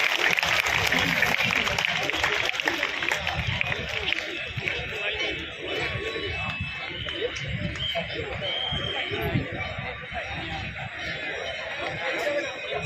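Sustained audience applause with crowd chatter at a Bihar Diwas festival event in Ankleshwar, Bharuch, a steady dense wash of clapping and voices running loud throughout.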